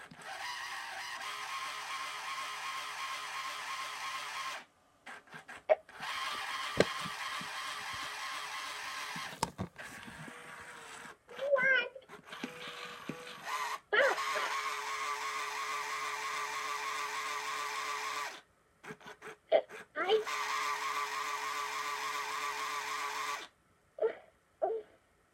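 A Hasbro My Real Baby toy doll from 2000 cries in electronic wailing bursts, several sustained stretches broken by short pauses and faint clicks and whirring from its broken mechanism, heard close and fairly quiet.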